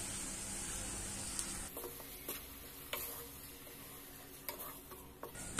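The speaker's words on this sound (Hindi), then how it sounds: "सभी चीजों को अच्छे से आपस में मिक्स कर लेंगे हम।" Coconut ladoo mixture with sugar and condensed milk being stirred in a pan, a steady soft scraping hiss broken by several sharper spoon knocks and scrapes, with no talking.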